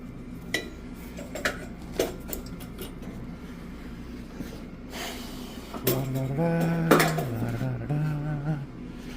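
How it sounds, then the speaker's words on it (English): Labeled coils being refitted on a Steris V120 Century steam sterilizer manifold during maintenance: scattered metallic clinks and knocks close by, followed by a steadier resonant metallic ringing that wavers in pitch. "Then put the coils back on."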